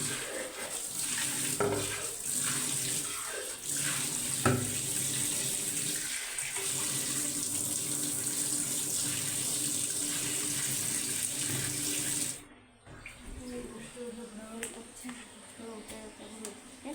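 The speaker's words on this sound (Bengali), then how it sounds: "সকালে মুখটা ধুতে হবে" A tap runs steadily as someone washes their face in the morning, a continuous splashing rush with small bumps, then it stops abruptly near the end, leaving quieter room sounds; a voice is faintly present.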